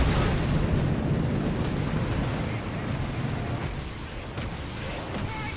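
A massive rocket barrage in the Company of Heroes 3 strategy game, heard as a loud, rumbling wash of overlapping explosions and blasts that slowly fades over a few seconds.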